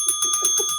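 Doorbell chime ringing in a repeated pattern of six or so quick, bright tones over about a second, close and clear with no other sound.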